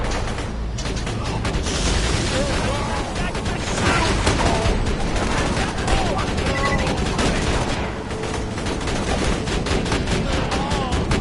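Sentry turret gunfire in Borderlands 2 rattles in dense, continuous bursts with mechanical clatter and booms, loud and close throughout, with game voices heard briefly.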